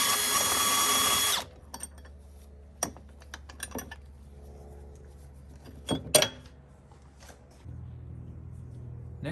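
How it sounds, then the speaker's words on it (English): A short burst of power tool whirring removes a 13mm bracket bolt on an Avant 528 loader during a fuel service, then stops, followed by scattered clicks and clanks of handling parts. "Next, we'll remove the bracket here with the 13mm bolt."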